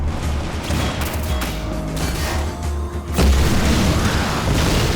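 Powerful weapon fire and explosions in the Mission Improbable video game: dense, continuous booming bursts and gunfire rattle throughout, swelling into an even louder barrage near the end.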